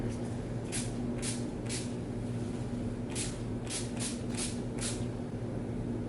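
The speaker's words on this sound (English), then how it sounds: "So I'm just going to spray that all over." Several short hissing bursts of face primer spray, a quick pair of puffs, then a run of five more in fairly even rhythm, over a steady low hum.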